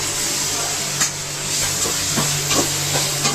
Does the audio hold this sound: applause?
no